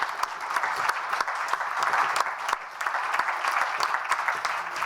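A large conference audience at a housing finance summit in Prague claps steadily, a dense, continuous wash of applause that dips briefly and then carries on.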